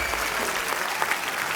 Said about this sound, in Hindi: तालियां जोरदार होनी चाहिए।